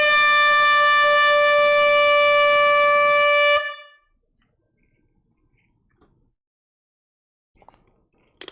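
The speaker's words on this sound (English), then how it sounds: "Air horns being blown." Loud air horn blast at a live vinyl record sale, a steady sustained blare lasting about three and a half seconds before cutting off, followed by near silence with a few faint clicks and rustles.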